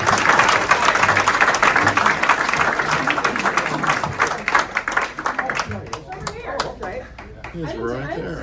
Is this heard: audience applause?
yes